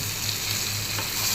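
Eggplant, meat, onion and potato fry in a pan, giving a steady close sizzle with a bright hiss and a light stirring scrape near the end.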